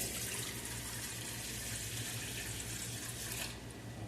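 Water pours steadily from a pitcher in a continuous splashing stream, close by, with no voices.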